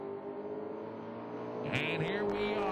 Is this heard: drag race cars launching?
yes